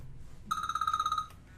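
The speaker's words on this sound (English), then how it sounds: "excuse my ringing phone," A telephone rings indoors with a bright, rapid trilling bell tone lasting under a second, then stops, against a quiet room background.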